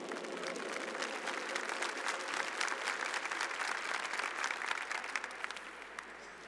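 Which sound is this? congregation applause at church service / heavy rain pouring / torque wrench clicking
congregation applause at church service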